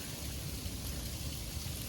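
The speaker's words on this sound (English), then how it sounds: "it is freezing rain out here" Freezing rain falls outdoors during a winter storm as a steady, dense hiss and patter that holds at an even, fairly quiet level for the whole moment, with no voices.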